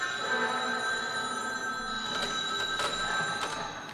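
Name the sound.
telephone ringing in radio drama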